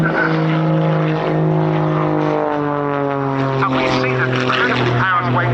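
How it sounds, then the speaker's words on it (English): Powerful jet aircraft hovering during an air show display, a loud sustained engine roar with strong droning tones that shift slightly in pitch, heard under a commentator talking over it. "So this aircraft has more thrust than weight, so it can climb forever, and it also has the capability of hovering."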